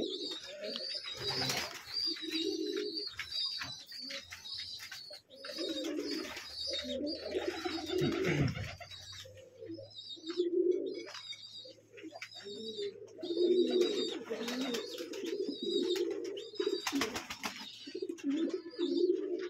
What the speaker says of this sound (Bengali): এই যে আমার টাকলা কবুতরটা।